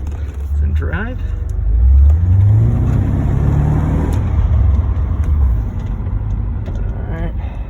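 A Porsche 928 S4 engine revs up and pulls away, a rising mid-pitched swell that builds over a few seconds and holds loud and close before easing, with speech heard over it.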